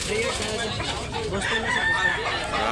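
A Sweater-breed gamecock rooster crows amid other fowl, its drawn-out call rising over a busy farmyard background with a voice murmuring nearby.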